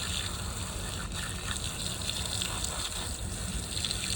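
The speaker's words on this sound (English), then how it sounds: "you just want to rinse it all out the best you can" Water gushes steadily over a seal coating filter, rinsing it out in a continuous, close rush of spray with no pauses.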